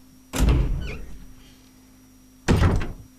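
A door opens in the survival horror game Resident Evil HD Remaster, with a heavy thunk and creaking swell near 0.4 s, then a second loud thump around 2.5 s, close and with no talk.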